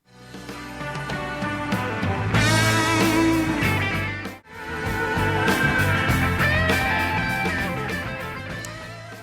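An original guitar solo plays as dense full-band rock, with wailing electric guitar over pounding drums and bass, briefly dipping near four and a half seconds before surging back.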